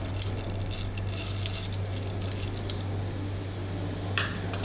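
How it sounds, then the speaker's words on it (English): Cumin seeds tossed into hot oil with whole red chilies in a pan for chhole, a steady close crackle and sputter over a low hum, with one sharper hiss near the end. "And now I am adding some cumin seeds."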